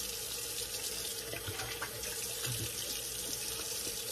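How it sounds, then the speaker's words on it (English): Water from a tap runs steadily while shaving cream is rinsed off a face at a sink, a continuous close splashing hiss with faint irregular splatters and no talking. "just rinsing it off takes a while"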